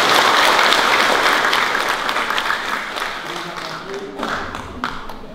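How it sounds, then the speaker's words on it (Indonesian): Applause from a church congregation at a Palm Sunday service, a steady round of clapping that fills the space and slowly thins out toward the end. "Untuk itu kita beri aplaus."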